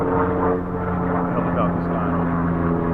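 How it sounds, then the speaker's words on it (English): A helicopter flying over a fishing spot gives a loud, steady droning rotor and engine rumble throughout, with someone talking over it. "helicopter's flying"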